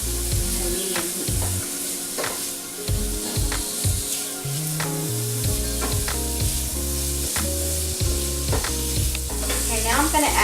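Salmon sautéing in a pan over medium heat, sizzling loudly and continuously, with frequent scraping stirs and clatters of a utensil against the pan.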